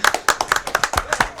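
A quick run of about ten sharp hand claps in a Dora the Explorer: Journey to the Purple Planet video game, steady rhythm, close and fairly loud, with no one talking.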